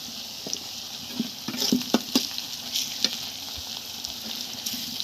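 Onion and chilli fry in hot oil with salt and turmeric, giving a steady close sizzle broken by scattered pops, crackles and stirring clicks, with no voices.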